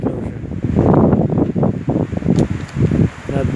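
Cold wind gusting past the microphone in the evening, a loud rumbling buffet that rises and falls over a few seconds, with no speech.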